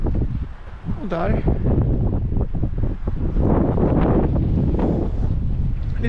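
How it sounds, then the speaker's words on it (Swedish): Steady wind buffets the microphone throughout, a broad rumbling roar with a voice talking over it. "Lite blåst."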